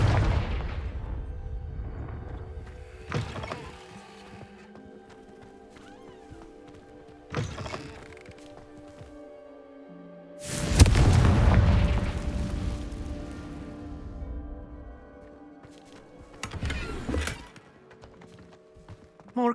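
Confringo blasting spell explosion in the Hogwarts Legacy video game, a loud close boom with a rumbling tail among quieter thuds and magical whooshes.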